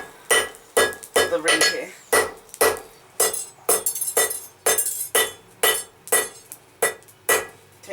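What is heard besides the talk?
hammering a steel taper on an anvil while forging a BBQ fork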